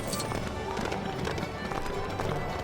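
Rapid thudding hoofbeats of a galloping horse in a LEGO animation, driving and rhythmic, with a voice talking over the clatter.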